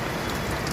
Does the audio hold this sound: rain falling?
yes